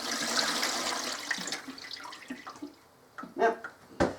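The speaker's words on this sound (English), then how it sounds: "And then I'm going to put a good 2 quarts of water in there." About two quarts of water poured into a canning pot with vinegar already in it, a faint splashing rush that thins out into scattered drips and clinks near the end.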